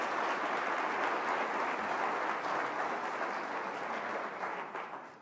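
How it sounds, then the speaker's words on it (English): An audience at a spring college closing meeting applauding, a dense, sustained wash of clapping that fills the room evenly and tapers slightly toward the end. "I think it deserves a round of applause"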